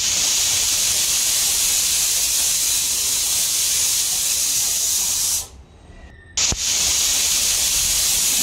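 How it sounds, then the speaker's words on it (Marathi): A pressure cooker holding carrots hisses loudly and continuously with steam, cuts out abruptly for about a second, then resumes after a sharp click, close and alone. "आता फायनली आपल्या 3 शिट्ट्या कुकरला झालेल्या आहेत"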